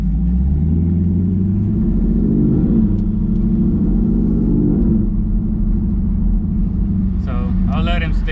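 A 2021 Camaro SS 1LE or 2021 Supra roars through a drag race run, a loud, low engine drone with rising revs and shifts, heavy rumble filling the clip, with a voice briefly heard near the end.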